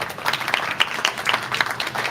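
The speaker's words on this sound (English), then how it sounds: "Can we give Karen a big round of applause?" Audience applause at an AI demo night, a steady patter of many hands clapping for about two seconds at moderate loudness, with a few sharper individual claps standing out.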